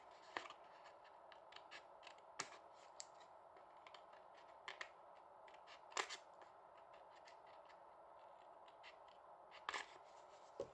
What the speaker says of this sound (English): I love these scissors, they are brilliant, the snips